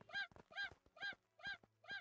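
A chicken in the survival crafting game Craftopia gives five short harmonic honking clucks in an even rhythm. The calls are loud and close, with faint game sounds between them and no talk.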